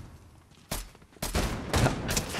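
Enforcer AR assault rifle firing in Fortnite: three loud bursts of rapid gunfire, each a short rattling volley separated by brief pauses.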